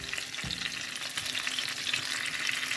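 Onions frying in hot oil in a pan, a dense continuous sizzle with a soft knock of the pan near the start, steady and close throughout.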